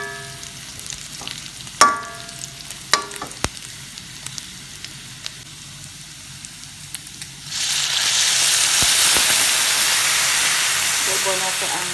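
Beef halang-halang cooking in a pan, scattered clinks and taps first, then a loud steady sizzle and steam hiss that rises partway through and holds to the end.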